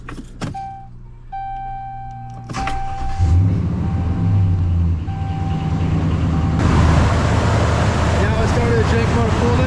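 A 2009 Ram 1500 pickup with the 4.7 engine cranks and starts, then settles into a steady low idle rumble close by, with a chime tone and a few clicks sounding first.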